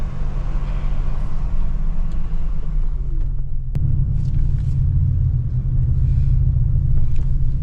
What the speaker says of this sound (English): But here it's braking, accelerating, braking again.